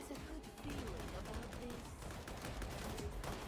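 Dense, continuous gunfire from Warhammer 40,000: Darktide, a loud sustained barrage with overlapping shots and faint voices mixed underneath.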